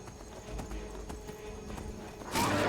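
Horse hooves clip-clop at a steady riding pace in the video game Skyrim, with a loud burst of rushing noise near the end.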